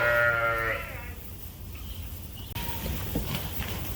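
A single loud sheep bleat up close at the start on a sheep farm, followed by wind and outdoor background noise.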